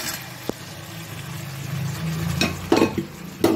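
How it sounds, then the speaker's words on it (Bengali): Boiled vegetables are stir-fried with tomato in spice paste for a vegetable fish curry. A soft sizzle runs underneath while a spatula gives a few sharp scrapes and knocks against the pan near the end. No voices. "সেদ্ধ সবজিগুলো দিয়ে আমি এবার ভালো করে কষাবো একটু।"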